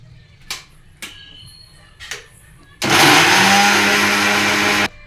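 A kitchen mixer grinder blending chopped tomato and onion into paste roars loudly and steadily for about two seconds, after a few short knocks and clicks as the jar is set in place.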